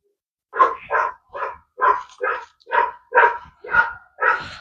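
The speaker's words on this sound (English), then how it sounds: "The dogs are barking at the female goat, it appears." Dogs bark outdoors at a goat on a rural homestead, giving about nine loud, close barks in a steady rhythm with short gaps between them.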